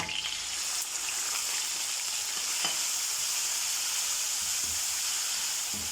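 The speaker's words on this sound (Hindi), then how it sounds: "अब मैं जो मैरिनेट किया हुआ चिकन है वो इसमें डाल देती हूँ" Marinated chicken frying in a little oil in a kadhai, a steady loud sizzle running throughout with occasional stirring clatter, no voices.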